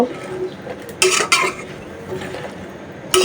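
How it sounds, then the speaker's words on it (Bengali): A metal spoon scrapes and clanks against a pot while bottle gourd stir-fries with pond fish, over a low background sizzle, with a few louder, close knocks spaced unevenly. "আস্তে আস্তে লাউটা ভালোভাবে কষানো হোক মাছের সাথে"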